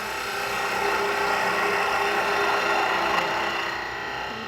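A wood lathe parting tool cuts steadily into spinning wood while turning a tulip, a continuous rough scraping whir that holds even for several seconds before easing off.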